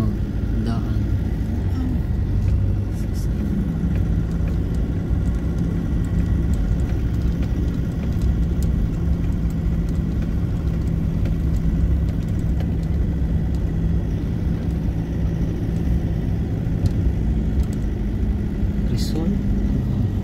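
A car engine labours uphill on a steep zigzag road toward Tagaytay, a steady low droning hum that continues throughout under frequent talking.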